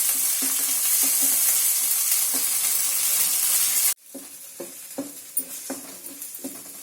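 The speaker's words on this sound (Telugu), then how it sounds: "ఈ పేస్ట్ని 5 మినిట్స్ వేగనిద్దాం." Masala paste with almond frying in a pan for chole, a loud steady sizzle that suddenly drops to a softer crackle, with rhythmic stirring scrapes throughout.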